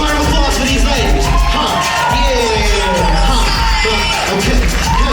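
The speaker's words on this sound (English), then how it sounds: "One more round of applause for these ladies." A loud crowd at a fashion show cheers, whoops and yells continuously, with voices mixed throughout the din.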